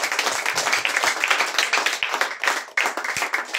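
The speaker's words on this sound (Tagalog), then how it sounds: "Malakas na palakpak." A church congregation claps loudly during a sermon, with dense, sustained applause that fills the room and rises in bursts, close and energetic throughout.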